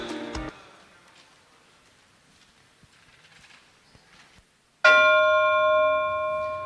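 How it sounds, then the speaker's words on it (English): A bell rings once, sharp and resonant, to mark the start of a timed contest. It follows a few seconds of near silence with faint knocks and rings on in a slowly fading tone. "There will be a short bell"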